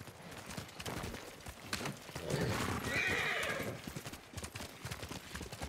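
Horses in the Ghost of Tsushima video game whinny and clop their hooves amid battle preparations, a neigh standing out in the middle over a busy, moderately loud mix with some voices.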